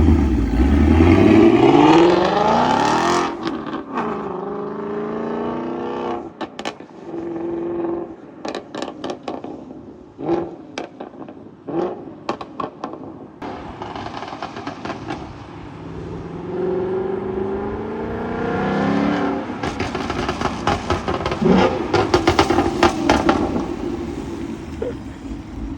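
A tuned Ford S650 Mustang revs its engine in rising sweeps, and the exhaust lets out sharp crackling pops and bangs between the revs. It sounds loud and close, with no talking.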